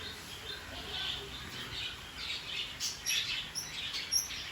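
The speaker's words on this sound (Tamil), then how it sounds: "வீட்டிலே வந்து பார்த்தீங்கன்னு சொன்னால் காதல் பறவை என்று கூறுகின்ற லவ் பேர்ட்ஸ் 3 சோடி இருக்கிறது." Pet lovebirds kept at home chirp and tweet in quick, overlapping high calls with a few squawks. The calls stay fairly soft and steady, with no talk.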